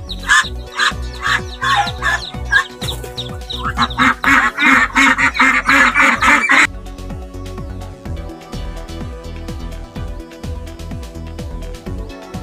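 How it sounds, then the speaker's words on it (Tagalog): Peking duck hen quacking loudly in rapid, insistent bursts for several seconds, then falling quiet, leaving a softer steady background. "ito yung sound na ang babae na Peking duck. Maingay siya."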